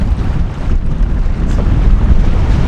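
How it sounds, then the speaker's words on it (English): Strong wind whipping over a lake on a canoe trip in a Spanish forest, a loud continuous roar of gusts buffeting the microphone with low rumble, with no talk. "You can see it's just wind's just whipping through here."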